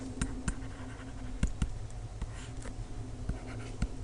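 A pen or pencil writes a geometry proof on paper, giving soft scratchy strokes with small taps between words, close and steady, with no talk.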